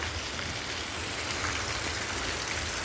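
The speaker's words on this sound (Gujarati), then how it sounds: "વરસાદ ચાલુ છે" Steady rain falls outdoors around a parked vehicle, a dense even hiss that holds at constant loudness throughout with no voices.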